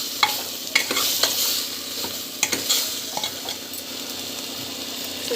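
Food sautéing in a pan while rock salt and spices are added for a country chicken curry, with a continuous sizzle broken by sharp scraping clinks of a spoon stirring against the metal.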